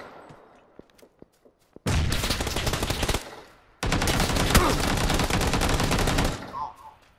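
Sustained automatic gunfire in PUBG: a few scattered single shots, then two long, loud bursts of rapid fire, each lasting about a second and a half to two and a half seconds, with a short gap between them.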